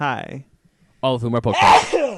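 A single sharp sneeze bursts out amid casual podcast chatter, with talking just before and right after it.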